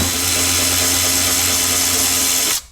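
A power tool whirs steadily and loudly while removing 10mm bolts from the dashboard of a Mercedes CLK W209, running continuously for a couple of seconds before cutting off abruptly at the end.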